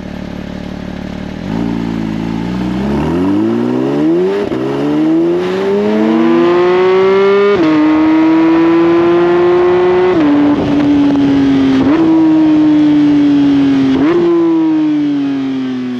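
A Porsche 911 GT3 Touring engine revs up loud and close, climbing in pitch through several gears with brief dips between pulls, then holds a high sustained wail before settling, with no talking over it.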